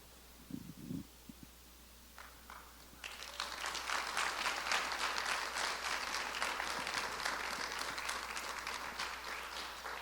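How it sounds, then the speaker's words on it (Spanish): A church congregation breaks into sustained applause after a short pause, a dense, steady wash of many hands clapping that holds strongly to the end. "Un fuerte aplauso a ellos"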